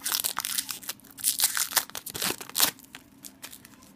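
Plastic packaging crinkles and crunches close up as a power bank with flashlight is unwrapped, with irregular rustling bursts and tearing sounds, no talking.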